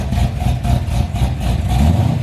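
A cammed performance car engine idles at a car show with a choppy, lopey rumble, pulsing in a steady uneven rhythm up close, loud and without talk.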